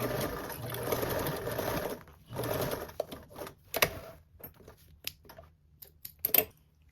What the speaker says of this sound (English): I'm going to baste this one just across the straight edge part, not around the curve